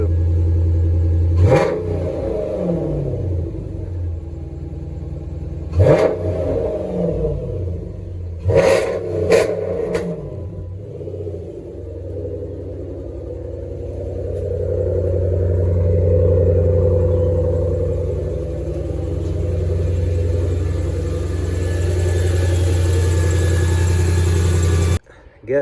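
A Dodge 392-engined car idles with a heavy rumble, broken by three or four sharp throttle blips that rise and fall quickly, then holds a steady, louder idle; faint voices sit beneath the engine.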